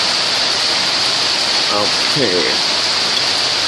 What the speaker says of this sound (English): You hear the rain. This is the way it rains here in the tropics.